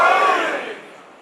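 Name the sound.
crowd loudly reciting salawat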